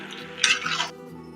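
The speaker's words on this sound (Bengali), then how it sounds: "এবার মাংসটার সাথে এটা ভালো করে মিশিয়ে নিই।" Chicken being stirred together with crisp fried onions in a pan for Chicken Lajawab: a short burst of scraping and clattering utensil strokes in the middle, loud and close, alone without talk.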